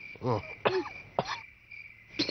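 A person coughs four times in short, dry bursts spaced apart, close by, with a faint steady insect chirr in the quiet background.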